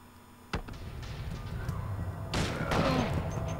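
A single sharp gunshot from Silent Hill 2 cracks out near the start, followed by murky game ambience and a brief rising tone, with someone speaking over it.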